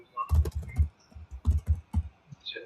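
Quick bursts of typing on a computer keyboard, clustered keystrokes in two rapid runs, close and fairly loud, with no talk over them.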